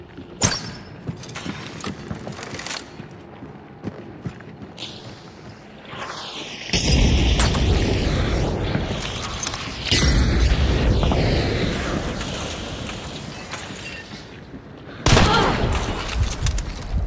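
Several loud blasts from a Martini-Henry rifle with explosive ammunition in Hunt: Showdown hit abruptly, each followed by a rumbling, crackling tail that slowly fades, with mechanical clicks and creaks in the quieter gaps.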